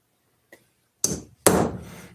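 A hammer taps a flared fitting flush: a faint light tick, then two sharp, close strikes about half a second apart, each ringing briefly before fading.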